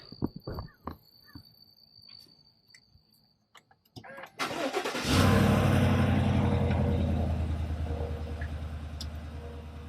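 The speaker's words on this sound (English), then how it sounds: "Let's go ahead and start up the vehicle and see what we get here." A car engine cranks and fires up after a few clicks and clunks, then settles into a loud, steady idle rumble that slowly eases off.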